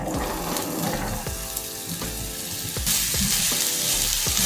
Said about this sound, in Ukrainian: На сковорідку вливаю олію, небагато і закидаю цибульку.